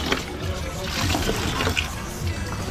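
Water runs and gurgles into a newly installed toilet bowl, a close, steady trickle and fill, with voices speaking softly over it.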